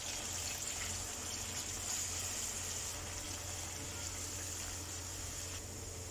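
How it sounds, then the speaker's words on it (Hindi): Water poured into a chicken and potato curry pot, a steady continuous gush of liquid running for several seconds at low, even loudness with faint kitchen background. "और अब हम इसमें 2 गिलास पानी ऐड करेंगे।"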